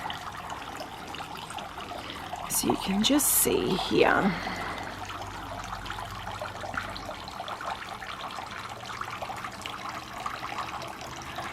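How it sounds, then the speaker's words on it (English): Water trickles and drips steadily in a solar-powered garden water feature in a cottage garden. The splashing runs close by and continuous, and a person talks over it near the start. "It's such a relaxing sound. Like the dropping water"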